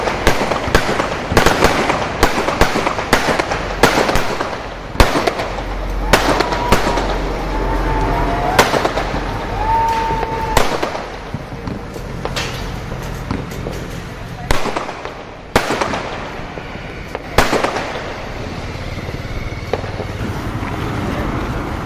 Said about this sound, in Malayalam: 100ഓളം രോഗികൾ ചികിത്സയിൽ കഴിയുന്ന ആശുപത്രിയിലാണ് വൻ ശബ്ദമുള്ള പടക്കങ്ങൾ പൊട്ടിച്ചത്.